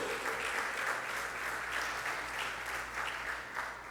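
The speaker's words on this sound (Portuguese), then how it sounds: "Aplauda o Senhor Jesus." A congregation claps steadily and evenly for several seconds, close and full, with no voices standing out.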